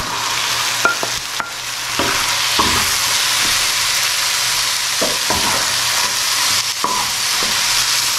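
Cluster beans fry on a tawa with a steady loud sizzle, broken by scraping stir strokes at irregular intervals, and no voices.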